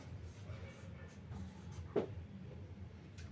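A pen moves across paper in soft, faint scratching strokes, broken by short pauses and one slightly sharper tap, against a quiet room.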